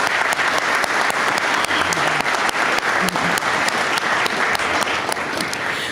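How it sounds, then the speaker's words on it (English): Loud, continuous applause from an audience at a live soccer league announcement event, dense clapping sustained at full level from start to finish with no voices over it. "I want to give you a round of applause for that."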